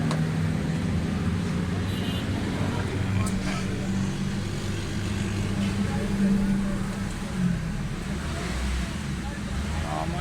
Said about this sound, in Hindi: गाड़ी का साउंड ही माशाल्लाह ज़बरदस्त है।